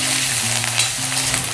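Cauliflower florets frying in a pan of hot oil, giving a steady close sizzle with light crackling and occasional stirring scrapes throughout, no voices present.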